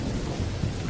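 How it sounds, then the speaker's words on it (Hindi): Steady roar of heavy rain with a low rumble of thunder underneath, dense and continuous throughout with no voices, during a downpour outside a house. "बाहर बहुत बारिश हो रही है ना"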